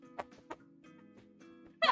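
A person imitates a bird call with a few short clucking bursts, ending in a louder squawk, over a low steady hum.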